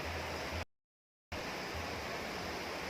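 A small stream or creek along a rough trail gives off a steady broadband rush of flowing water, close and continuous, with a brief drop to silence partway through.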